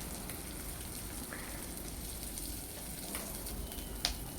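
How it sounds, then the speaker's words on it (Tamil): Chopped onion sautéing in a pan for a brinjal and drumstick sambar, giving a steady, faint crackling sizzle throughout with a couple of small clinks near the end. "அதையும் போட்டு நம்ம நல்லா வதக்கிக்கிறோம்"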